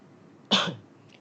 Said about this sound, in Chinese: 每次录音的时候，不知道为什么就特别容易想咳嗽